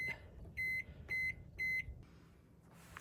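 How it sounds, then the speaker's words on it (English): A microwave kiln warming up inside a microwave hums quietly while three evenly spaced electronic beeps sound, followed by a low, steady running drone. "I'm just going to pop this on for 2 minutes just to warm up the inside of the microwave kiln"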